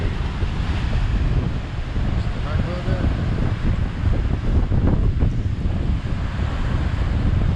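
Rough ocean surf pounds the shore of Grand Cayman during Tropical Storm Laura, a loud, dense, continuous roar of breaking waves and gusting wind buffeting the microphone, with no clear voices heard.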